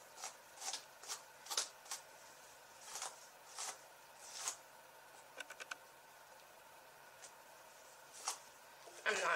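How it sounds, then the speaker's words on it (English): A brush strokes through a doll's wet, freshly shampooed hair in quick soft swishes, a dozen or so short scratchy passes with gaps between, close and fairly quiet. "now I'm gonna brush through this"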